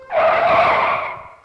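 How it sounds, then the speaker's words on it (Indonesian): An angkot minibus brakes suddenly on a sharp downhill stretch near Kali Grogol, its tires letting out one loud, sustained skidding squeal that lasts over a second before fading out. "supir angkot langsung rem mendadak"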